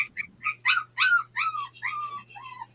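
Puppies yipping and whimpering close by in a quick series of sharp, high, nasal cries, getting longer and more whiny toward the end, with a faint steady hum underneath.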